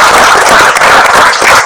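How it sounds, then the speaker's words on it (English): A seminar audience gives a round of applause, a dense, loud wash of clapping filling the room steadily from start to finish, heard close and alone. "can I have a round of applause for Mitchell Shire?"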